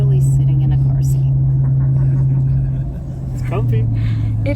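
A car ride heard from a passenger seat while hitchhiking, with a loud, steady low engine and road rumble throughout and a brief dip near the middle, and a person speaks over it.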